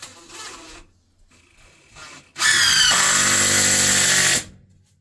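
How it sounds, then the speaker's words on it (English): Power drill driving short screws into wood for a van's raised floor, with a couple of brief quieter bursts followed by one loud sustained two-second whine that drops in pitch as the screw seats, then stops. "Short screws, just drive them into the wood, deep as you like, until it holds the other piece."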